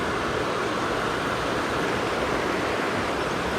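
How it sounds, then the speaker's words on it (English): A morning creek on the Mulberry River runs with a steady, broad rushing of water, continuous and fairly close, with no voices over it. "Got the creek and flowing."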